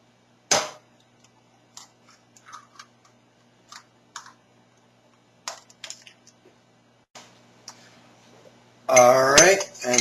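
Room temperature eggs cracked for German brownies: a sharp tap near the start, then a scatter of small clicks and knocks in a quiet kitchen, ending with a louder burst of clattering near the end.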